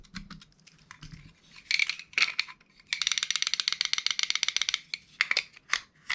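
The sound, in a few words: screwing down airsoft DSG M4 shell halves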